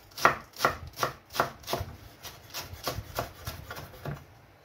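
Knife finely slicing lettuce on a cutting board, a steady series of about a dozen crisp, rhythmic chops close up, strongest at first and gradually softer.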